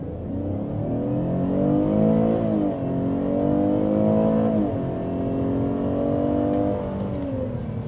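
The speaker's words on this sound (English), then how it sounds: "let's go ahead and get a hard acceleration" A Buick Enclave ST with a 3.6-liter V6 pulls hard under full acceleration, its engine note climbing steadily through the gears with brief dips at each shift, loud and continuous from inside the cabin.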